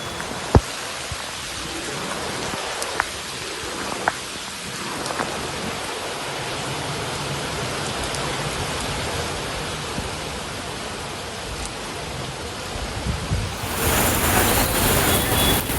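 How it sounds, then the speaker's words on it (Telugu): Steady rain falls in Hyderabad with distant thunder rumbling beneath, a dense continuous hiss that grows louder and heavier near the end. "హైదరాబాద్ లో పలు చోట్ల వర్షం కురుస్తోంది."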